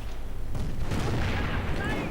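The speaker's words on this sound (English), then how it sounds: "a Nebel barrage goes in, knocking out the Firefly as well" A Nebelwerfer rocket barrage strikes in a World War II strategy game as a run of low rumbling booms and crackling blasts, with faint whistling shrieks toward the end.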